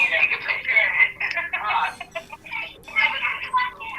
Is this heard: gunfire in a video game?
no